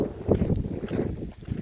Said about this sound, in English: It's also very windy out.